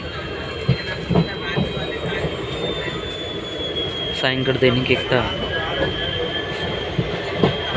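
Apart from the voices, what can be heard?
train travelling on rails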